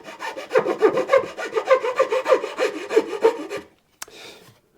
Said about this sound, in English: then just a finer file just to clean that up